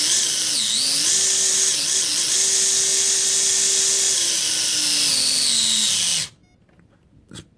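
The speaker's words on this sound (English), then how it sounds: "let's test this motor and check how it sounds" A SinoHobby Mini Q 130 brushed motor for a 1:28 Wltoys K989 RC drift car runs loud and steady with a high electric whine, its pitch dipping and rising slightly, then cuts off abruptly near the end, leaving quiet.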